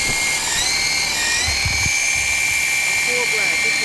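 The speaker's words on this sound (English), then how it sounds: "It almost sounds like a real helicopter." A toy helicopter flying at full power gives a steady high-pitched rotor whine that holds strong throughout, with brief low thumps and a voice talking nearby.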